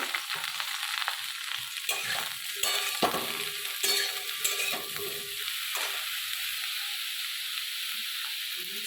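Eggplant frying in mustard oil in a pan gives a steady, hissing sizzle with scattered pops and crackles early on, settling into an even spitting hiss.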